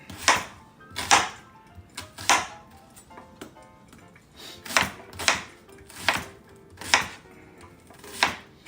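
A knife dicing a vegetable on a cutting board, with about ten crisp, evenly spaced chops that are close and distinct, separated by short pauses, and no talking.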